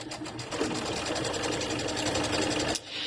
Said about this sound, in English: And I'm just going to sew down both sides of the line I just drew.